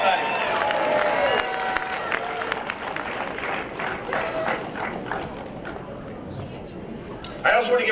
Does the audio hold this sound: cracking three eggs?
no